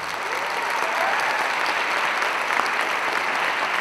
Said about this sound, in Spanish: brindarles un fuerte aplauso por llegar a este punto